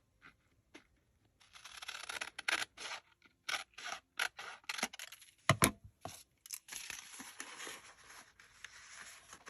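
Scissors cut across a large journal card, giving close, quiet, crisp snips and paper rasps in uneven bursts, with short pauses between the cuts.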